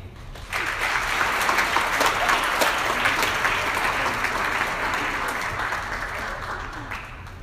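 An audience applauds as a guest speaker named Sophia, an NYU School of Law student, is welcomed to a lecture on the fight to fill Justice Scalia's seat; loud, steady clapping begins after a short pause and sustains throughout, thinning slightly toward the end.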